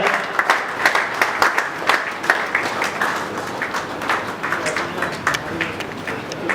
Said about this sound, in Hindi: जोरदार तालियां बजाइए राजीव गौड़ साहब के लिए